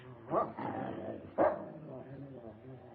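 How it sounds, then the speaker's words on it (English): Two sharp barks from a dog, about a second apart, sound close by in a 1942 film scene, with faint voices murmuring underneath. "Your dog seems to have taken a dislike to me, sir."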